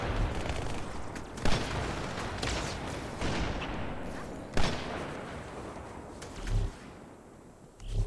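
Grenade explosions in Halo 2 go off as several sharp booms spaced a few seconds apart over a constant, noisy battle backdrop.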